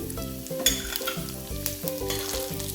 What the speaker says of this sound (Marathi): चणा डाळ घातलेली आहे ती थोडी परतूया लगेच त्याच्यात तेवढी उडीद डाळ घालायची